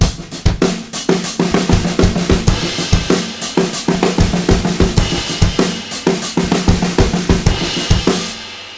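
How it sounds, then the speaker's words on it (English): A busy drum fill with rapid snare and tom hits and deep kick drum thumps on the offbeat ands, loud and close, with cymbal wash near the end. "He's playing bass drum on the ands of the beat, so it makes it much thicker."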